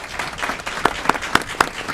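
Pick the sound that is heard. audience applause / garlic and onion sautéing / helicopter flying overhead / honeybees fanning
audience applause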